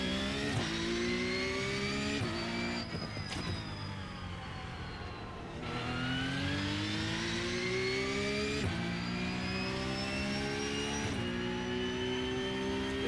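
A race car engine in the iRacing sim revs hard and steadily, its pitch climbing through each gear then dropping sharply at each shift, a loud continuous drone with no talk.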